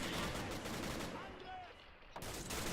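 Gunfire crackles through a WWII battle game as Germans push in from the east, with dense bursts from an MG position and other weapons at Pegasus Bridge; the firing thins out briefly and then comes back loud.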